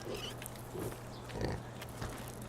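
Pigs on a pig farm in Farming Simulator 2015 grunt and oink in soft, scattered snorts over a steady low hum, without talk over them.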